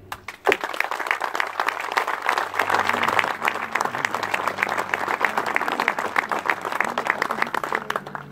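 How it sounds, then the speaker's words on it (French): Audience at a town hall inauguration in Charentilly breaks into sustained applause, dense overlapping clapping filling the room for several seconds at steady loudness after a brief opening clap. "Je vous demande de les applaudir."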